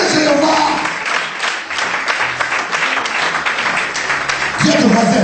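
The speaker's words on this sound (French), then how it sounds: "Applaudissez Jéhovah!" A church congregation applauds loudly, a dense, sustained wave of clapping for the whole stretch, with voices mixed in underneath.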